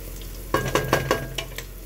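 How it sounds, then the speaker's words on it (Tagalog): Garlic toasts in a hot pan, sizzling softly under a run of stirring scrapes and clinks that come in quick uneven strokes, close up and moderately loud. "i-toasted ko lang yung bawang para ma-flavor siya"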